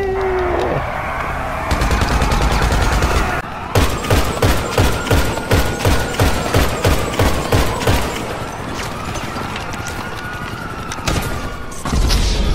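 Explosive-round gunfire in GTA 5 Online, with a rapid, evenly spaced burst of loud booming shots over a steady engine-like drone, followed by a lingering, fainter tone.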